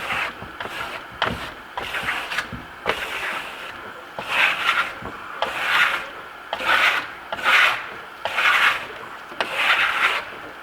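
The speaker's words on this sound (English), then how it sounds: "we go over and burnish it, the high spots that we created are now becoming very pronounced" Steel trowel rasping across a damp Marmorino plaster wall finish in repeated close strokes, a steady run of scraping passes that swell and fade in rhythm, with no talk.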